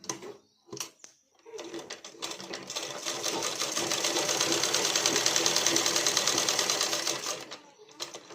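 A sewing machine stitches the back pleats of a blouse, starting with a few short bursts and clicks, then running in a steady, close, rapid whir for several seconds before slowing and stopping.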